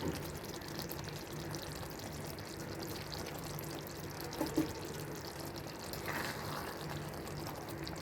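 Water pours steadily into a pan for several seconds at a moderate, even level, a continuous splashing flow with a slightly brighter gush near the end.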